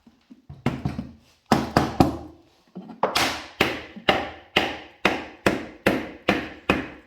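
Polyurethane foam beehive body parts are knocked out of an eight-frame hive mold with a hammer, a series of loud, close thuds, irregular at first and then settling into a steady rhythm of about one and a half blows per second.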